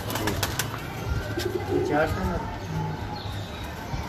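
Pigeons of a Faqir Gul line coo softly in a Karachi loft over a dense background hum, with a few sharp clicks at the start.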